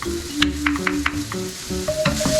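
Garlic fries over high heat in a pan for a tomato meatball spaghetti, with a steady close sizzle and scattered clicks and scrapes of stirring. No one speaks.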